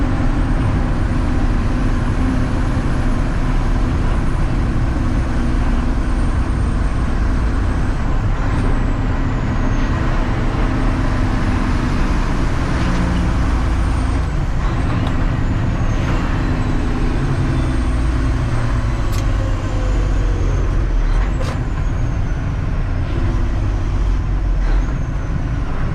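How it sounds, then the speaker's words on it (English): A truck with an 8LL transmission running with its Jake brake on, giving a loud, continuous, close engine roar with a deep rumbling drone and faint high whines throughout, no speech. "The Jake brake is on."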